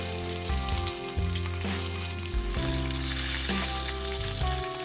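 A ribeye steak fries in butter and its own rendered fat, giving a steady, close sizzle that runs the whole time beneath music with a stepping bass line.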